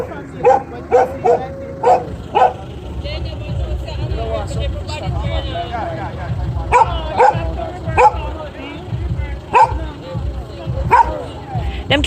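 Dog barking and yipping at a Jamaican wedding reception, several sharp barks in bursts at the start and again later, mixed with people talking and crowd chatter.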